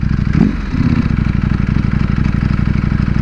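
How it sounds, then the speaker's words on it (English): A stock exhaust on a 2020 Ducati Panigale V4 R motorcycle idles nearby with a steady, loud, throbbing rumble and a slight blip near the start. "That's stock exhaust, guys, right there. You hear that?"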